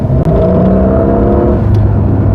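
A Porsche 992.2 Carrera GTS hybrid in Sport Plus with PDK automatic shifting hums and rumbles loudly up close, with its engine pitch climbing steadily and a brief dip at a gear change.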